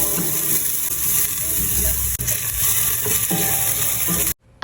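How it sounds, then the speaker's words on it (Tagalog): Ginger sautéing in a little hot oil in a casserole, a steady close sizzle with faint stirring scrapes, ending abruptly in near silence. "Nagpainit lang ako ng kaunting mantika dito sa aking kaserola at dito na ako magigisa nitong luya"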